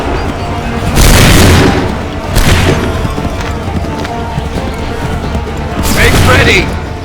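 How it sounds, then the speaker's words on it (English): Musket volleys in Assassin's Creed 3 erupt in loud booming bursts, one near the start, another shortly after and a third later, each a rough crackling roar over a busy battlefield din. "Open fire."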